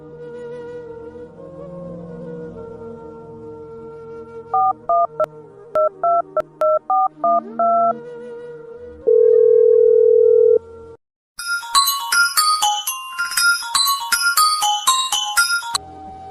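A phone is dialed with a quick series of bright keypad beeps, then a steady tone and a busy, repeating electronic ringing melody, loud and close with no voices.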